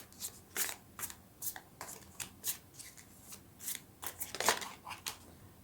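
Tarot cards shuffled and drawn by hand, a run of crisp riffling and slapping bursts in an irregular rhythm, close and fairly quiet with no talking.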